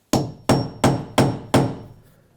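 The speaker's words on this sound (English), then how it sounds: "hammer it in" A nail set is driven into wooden countertop boards with five steady, forceful hammer blows. Each crisp strike rings close by and fades quickly before the next, with no one talking.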